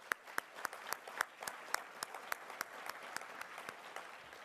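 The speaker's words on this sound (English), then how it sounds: "let's give them another round of applause" A modest audience at an ASL town hall forum during the 2023 AUSA Family Forum claps in a steady patter of distinct, fairly sparse claps, rather faint and tapering over a few seconds.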